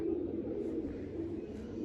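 A pigeon coos in a steady, low, continuous murmur, close and fairly soft, with no other sounds over it.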